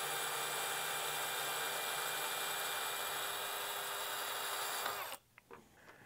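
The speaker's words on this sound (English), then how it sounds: "You feel the ream at the bottom of the bore." A reamer turns steadily in the pulse dampener bore of a 6T70 transmission's channel casting, making a faint, even tool whine for about five seconds that stops abruptly.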